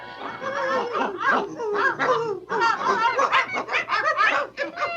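A group of different dogs in a 1971 animated film, yipping, whimpering and barking in quick overlapping bursts, loud and close, with a few snicker-like sounds.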